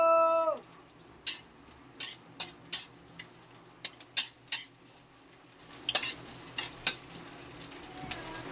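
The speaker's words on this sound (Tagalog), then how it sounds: "Kailangan nating igisa ang gulay." Vegetables are sautéed in a pan in a small home kitchen, with a steady sizzle under repeated sharp scrapes and taps of a utensil stirring, fairly close and regular.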